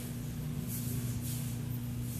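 Two quick hissing perfume spray bursts sound close by over a low steady hum, short puffs about half a second apart.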